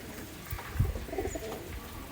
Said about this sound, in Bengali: এটা ঘন বাজি কবুতর নরকবুতর